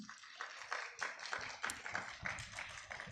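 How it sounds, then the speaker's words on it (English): Audience applause at a special event held at Universiti Malaya on a rainy day, a steady patter of many hands clapping at moderate volume for about three seconds. "Let's give everyone a round of applause for being here at this special event"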